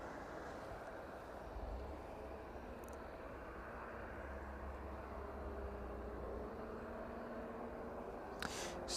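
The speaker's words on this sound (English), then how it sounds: "The 767 to Brussels sounds like it's starting up in the distance." A distant Boeing 767 at East Midlands Airport spools up its engines, a steady low rumble with a faint rising whine that holds evenly across the stretch, far off and unbroken by talk.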